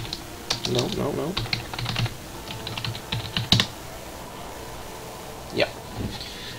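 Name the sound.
typing on a computer keyboard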